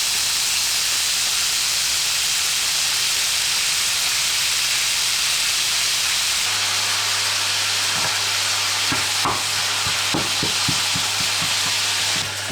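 Ground meat, pulled apart by hand beforehand, sizzles and hisses steadily in a frying pan while being stirred until browned, with a few scraping clicks of the utensil near the end.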